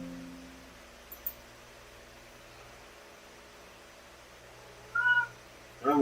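A pet cat meows twice near the end, each call short and fairly loud over a quiet room hum with a faint fan-like hiss and a couple of small clicks earlier.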